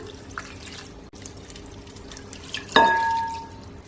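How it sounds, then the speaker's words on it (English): Room temperature water poured over vermicelli glass noodles in a bowl, a short splashing pour starting near the end after quiet kitchen background, close and moderately loud. "Room temperature water, just going to pour that in."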